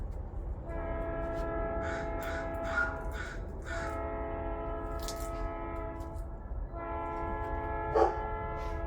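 A train horn sounds in long sustained chords, repeated three times, over a steady rumble of a passing train; a few crows caw in between.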